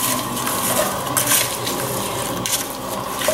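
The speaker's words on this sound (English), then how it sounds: "We'll stir it on in." Frozen trinity vegetables stirred into a dark chocolate-colored roux in a pot for chicken and sausage gumbo, with a spoon scraping and clinking against the pot amid a low steady sizzle, close and continuous.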